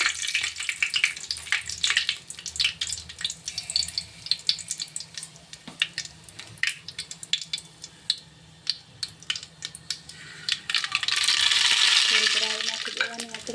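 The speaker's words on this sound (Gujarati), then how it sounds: "તેલ ગરમ થઈ ગયું એટલે આપણે 2 તજના ટુકડા નાખી દઈશું અને આ ટમાટર" Cinnamon pieces and tomato dropped into hot oil for dal dhokli, with irregular spoon clatter and stirring over a light sizzle, close by, then a rush of hissing steam near the end.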